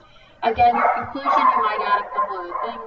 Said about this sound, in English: Sorry about my barking dogs.